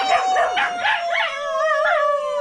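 Dogs howling together in a loud, close chorus of rising and wavering tones, with no talk over them.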